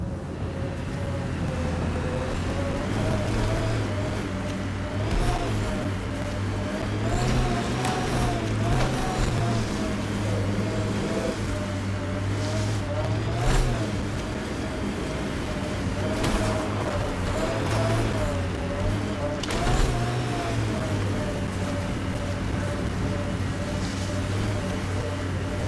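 The Nomad vehicle rolls downhill in Mass Effect Andromeda with a continuous engine drone and a steady whine, broken by occasional bumps and clunks of rough terrain.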